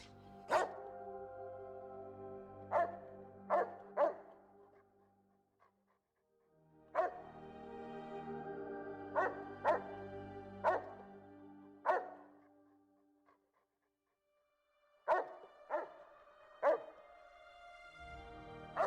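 Boston Terrier dogs in the video game Fallout: New Vegas bark in sharp repeated bursts, in clusters of two or three with short pauses between them, fairly close and loud with no talking.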